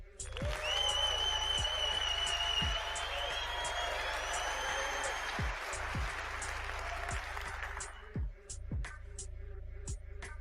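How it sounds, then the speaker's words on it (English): A canned hand-clap applause effect with cheers and whoops plays loudly for about eight seconds, then tails off while tonal chirping sounds continue over a low steady hum. "give him a big hand clap, please, sound maker."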